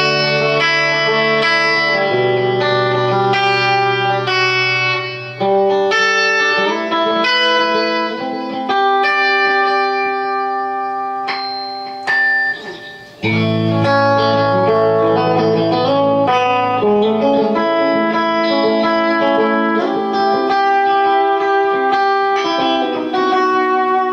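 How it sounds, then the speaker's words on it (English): Clean electric guitar played through a Line 6 Echoplex echo simulator, picking melodic lines and chords whose notes sustain and repeat in a medium echo trail, loud and clear with no talking. "now I'm going to add the Line 6 with the Echoplex simulator."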